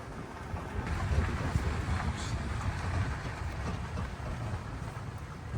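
Pima Air & Space Museum tour tram rolling along in Tucson, Arizona, a steady low rumble with wind noise, continuous and fairly near with no talk.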